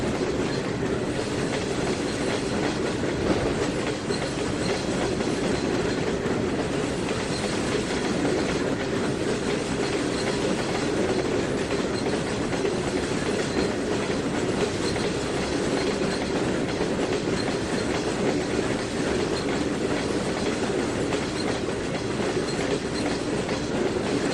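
Freight train with diesel tanker cars in the Trainz 2019 simulator game, rolling along steadily with a continuous rumble and rhythmic wheel clatter throughout, fairly loud and alone.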